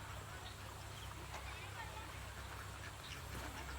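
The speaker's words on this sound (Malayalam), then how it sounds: "കണ്ടില്ലേ, അതാ താറാവ് കൂട്ടം നിൽക്കുന്നു" A flock of household ducks standing near a pond and paddy field quacks faintly at a distance, the calls coming now and then beneath a steady wash of outdoor background noise.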